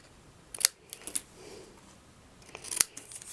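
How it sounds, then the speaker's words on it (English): Paper snips cut through card stock for a Christmas card in a few quick, crisp snaps, with two close clips early and a sharper one near the end, alone in a quiet room. "I'm going to take my paper snips and cut this end off right here"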